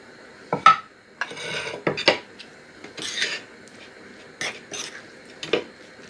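Black radish and apple salad tossed in a bowl with utensils: a series of close, irregular clinks and scrapes with soft rustling between them, no talking.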